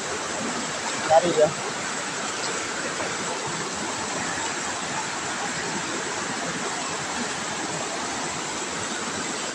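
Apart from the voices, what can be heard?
fast-flowing water of the Talo river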